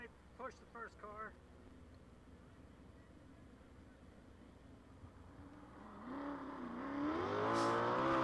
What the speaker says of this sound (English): First qualifier coming out onto the racetrack.